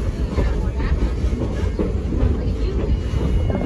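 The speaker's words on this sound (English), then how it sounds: "3716 has uncoupled and is moving up to the other end of the train for the return trip to Prairie Valley." Steam locomotive 3716 moving slowly along the Kettle Valley railway at a siding, with a steady rumble, hiss and faint rhythmic wheel clatter, close and loud throughout.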